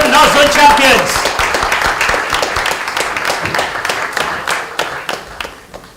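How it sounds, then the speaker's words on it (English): Applause from an audience at a national banking quiz final greeting the North Zone champion team, dense clapping that thins and fades over several seconds, with a voice speaking at the start. "please join me in clapping for Prem and Rahul from Baroda UP Bank, winners of the North Zone"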